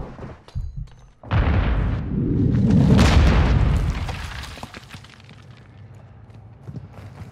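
A grenade explodes in the video game Call of Duty: Modern Warfare II with a loud, deep boom that swells and rumbles for a few seconds before fading into quieter crackles and thuds.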